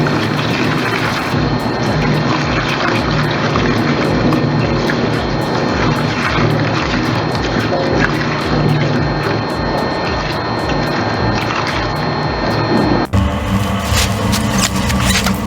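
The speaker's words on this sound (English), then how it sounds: "With twin shafts tearing through veggie waste, it preps biomass fuel with brutal grace" A Lion twin-shaft shredder tears through potatoes and vegetable waste for biomass fuel, making a loud, continuous grinding roar with dense rattling that changes character abruptly near the end.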